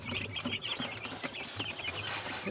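Twelve-day-old broiler chickens in a winter coop cluck and cheep continuously at moderate volume, several birds overlapping close by, with no talking.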